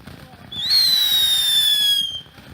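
A Phantom Fountain firework goes off in the grand finale, letting out a loud whistling shriek that sweeps up and holds for about a second and a half before cutting off.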